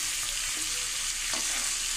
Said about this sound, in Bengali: অল্প একটু ভেজে তুলে নিচ্ছি